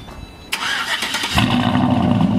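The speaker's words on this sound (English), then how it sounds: "For the ones that didn't hear your exhaust, let me hear it." GMC Yukon running straight exhaust with no catalytic converters and no muffler, rumbling into a loud, raspy rev after a sharp start and then holding a deep, steady, booming drone close to the microphone.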